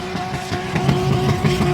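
Drift car at a Drift Indy competition screams at high revs as its tires spin and smoke, a steady, loud engine roar with squealing wheel noise and rising surges throughout.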